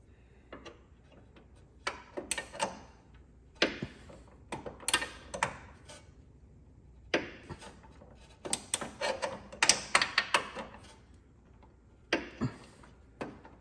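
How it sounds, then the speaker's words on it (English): Repeated sharp ratcheting clicks from a torque wrench tightening the transmission mount bolts of a RENNLINE mount on a Porsche Cayman S 987, coming in irregular bursts with short pauses, close and fairly quiet. "I'm gonna come back with a torque wrench."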